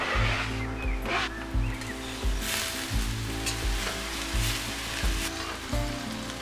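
Chopped green chilies frying in a hot pan of oil, a loud steady sizzle with rhythmic scraping and stirring knocks recurring about every second, close up.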